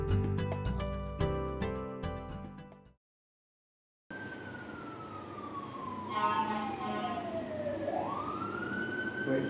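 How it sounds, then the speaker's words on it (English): A fire engine siren from a passing emergency vehicle, its wailing tone gliding down then sweeping back up, fairly loud and steady over road noise after a short silence that follows a burst of music. "Waiting for the fire engine, waiting for the fire engine, the fire engine."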